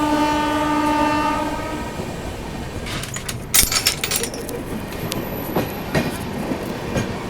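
The Goa Sampark Kranti Express, an Indian train on a Delhi to Goa route, opens with a sounding horn, then gives a steady rumble with clattering wheel clicks as it gathers speed close by.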